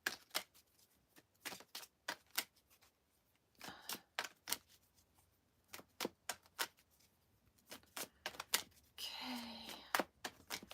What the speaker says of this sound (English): let me just give the cards a really nice shuffle here